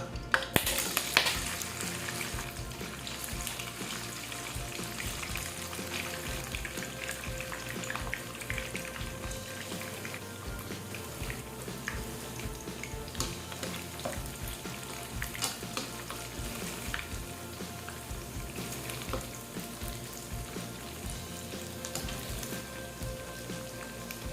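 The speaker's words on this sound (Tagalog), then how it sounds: "Magpa-fry tayo ng kikiam." Kikiam squid balls frying in hot oil for fried rice, a steady close crackling sizzle with occasional pops and stirring, continuous and fairly quiet with no talking.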